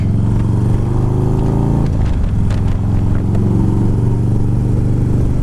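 A motorcycle engine drones steadily while riding in cool mid-40s weather, with a loud, close mid-range hum, a brief shift in pitch near the middle and wind rumble underneath, with no talk.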